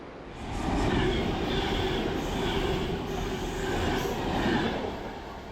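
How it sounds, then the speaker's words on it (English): A London Northwestern Railway Class 350 electric train rolls in with a rising rumble and hum, wheels squealing faintly on the rails as it draws close, loud and steady throughout. "And here comes our London North Western Railway Class 350."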